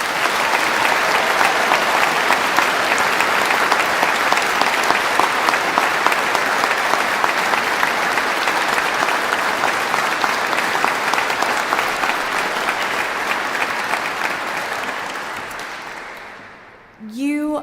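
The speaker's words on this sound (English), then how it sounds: "Can we please have a huge round of applause for the graduating class of 2023?" A large crowd at a university graduation ceremony gives the graduating class of 2023 a long, loud, sustained ovation of dense clapping that holds steady and then tapers off, with a voice starting up at the very end.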